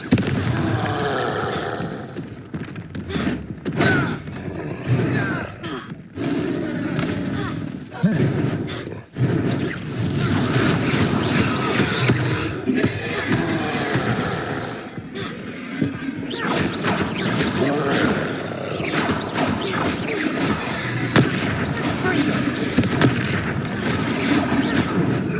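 Confringo blasting-spell explosions in the video game Hogwarts Legacy, a dense, loud barrage of booming blasts and roaring impacts running almost continuously for the whole stretch, with brief gaps and battle noise layered over it.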